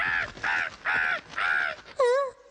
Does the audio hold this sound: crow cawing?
yes